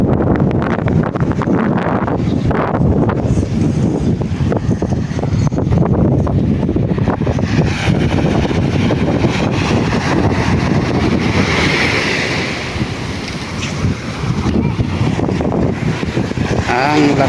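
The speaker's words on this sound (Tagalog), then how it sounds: "Malakas ang amihan." Strong northeast monsoon wind buffets the microphone at sea aboard a fishing boat, a loud continuous roar with waves and whitecaps churning throughout, and a voice speaks briefly underneath.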